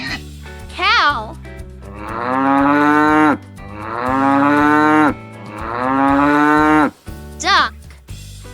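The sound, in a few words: cow mooing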